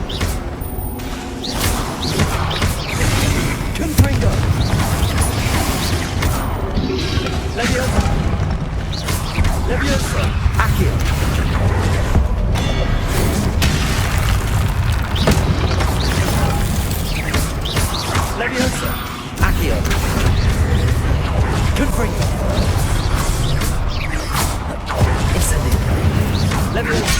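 Confringo fire-blast spells cast again and again during a Pensieve Guardian boss fight in Hogwarts Legacy, making dense, loud, continuous combat bursts and crashes with a voice talking over them.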